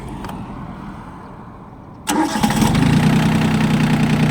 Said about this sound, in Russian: Ну, давайте запустим, послушаем двигатель.